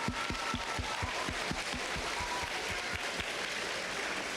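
Audience claps at a Milken Award school assembly, steady rhythmic clapping that fades out over a few seconds, no talk.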